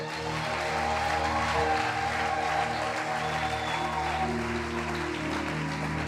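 A church congregation applauds and cheers in praise during a French-language worship service, a dense, steady wash of clapping with voices and music underneath throughout.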